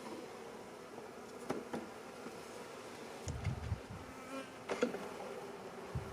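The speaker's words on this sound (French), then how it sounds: "il y a quand même un petit peu d'abeilles" A small honeybee swarm in a test hive, just brought out after 69 days wintering in a cellar, gives a soft, steady insect hum with a few brief, louder buzzes as single bees pass close.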